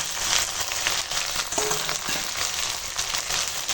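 Ginger-garlic paste, papaya pieces and tomato sizzling in a frying pan of fried onion for a potato-papaya chicken curry, a dense, continuous close hiss with small pops and scraping over it.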